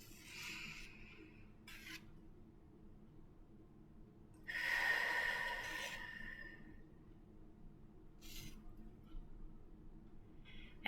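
Slow breaths are drawn in during a guided breathing exercise at a Sunday church service, several airy inhalations close to the microphone, with one longer, louder breath in the middle among quieter, shorter ones.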